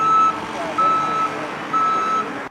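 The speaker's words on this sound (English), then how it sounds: "There's occasional beeping from the excavator." Three loud, steady reversing beeps from an excavator at a mass grave excavation site, each about half a second long and evenly spaced, close and alone over a low engine hum.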